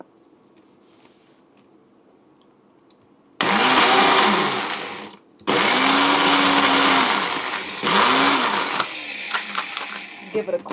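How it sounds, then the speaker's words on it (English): A blender whirs a red, white and blue smoothie in three loud bursts separated by short pauses, after a quiet start; its whine dips and rises in pitch, and a few clicks follow the last burst. "Now we're getting it on the blender."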